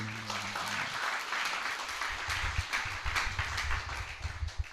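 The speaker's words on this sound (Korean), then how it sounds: "은혜 주실 하나님 앞에 영광의 박수 올립니다." A church congregation applauds with dense, sustained clapping that fills the room, beginning just after a brief spoken Korean phrase and continuing steadily.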